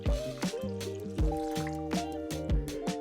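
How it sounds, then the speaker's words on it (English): Two cups of water pour into a turkey seasoning mix, with wet dripping and squishing splashes at an uneven rhythm over steady tonal music in the background. "for the final step, I'm gonna add 2 cups of water."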